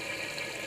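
Water splashes steadily from a waterfall into a backyard koi pond, a constant close rushing wash with no break.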